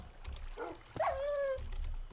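A Minecraft wolf in FTB Expert Skyblock giving a short whining yip with a sustained tonal whine, preceded by a softer bark-like sound, near and moderately loud over quiet background.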